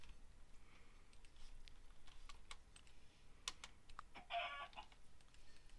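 A Minecraft chicken gives a brief, faint cluck amid quiet, scattered computer keyboard typing and clicks, all at low volume.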